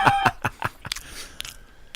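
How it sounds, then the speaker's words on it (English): Someone chews a tart noisily close to the microphone, with a quick run of loud, wet smacking bursts at first that fade into softer, scattered chewing. "Most other people would call it chewing."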